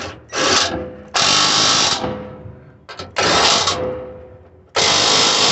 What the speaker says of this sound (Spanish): Ya que apretamos esos tornillos, entonces vamos a ir a apretar los del centro.